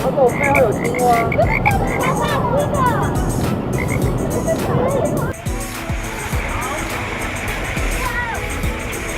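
Frogs croak in a dense, overlapping chorus beside a rainy-season mountain stream, with steady rushing water underneath; the croaking stays loud and continuous, then thins a little as the water noise takes over.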